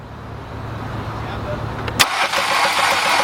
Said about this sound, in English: All right, we're gonna do the second cylinder now and crank.